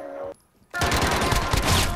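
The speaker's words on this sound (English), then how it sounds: "Shotgun." Shotgun fire in the Warzone video game: after a short quiet gap, a loud, dense burst of gunfire erupts and keeps going to the end.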